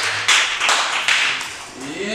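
Applause from a comedy audition audience greets a comedian, close-up bursts of clapping rising and falling over about two seconds before a voice begins speaking near the end.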